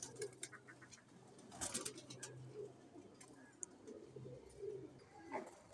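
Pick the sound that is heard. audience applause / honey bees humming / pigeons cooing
pigeons cooing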